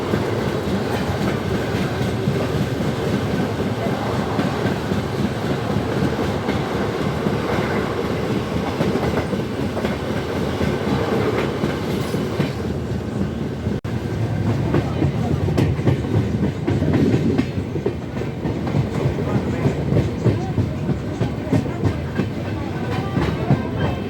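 The 12857 Tamralipta Express on its run from Howrah to Digha, a continuous loud rumble with rhythmic wheel clatter heard from onboard, steady throughout with no talk.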